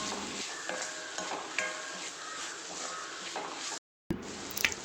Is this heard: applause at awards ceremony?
no